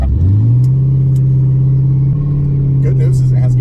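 A turbocharged Camaro held on a two-step launch limiter drones with a loud, close, steady engine rumble, with ragged popping breakup near the end and a voice briefly present.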